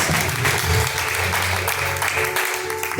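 A church congregation claps during a lively worship service, dense and loud clapping blended with a low hum of music and voices, continuing without a break.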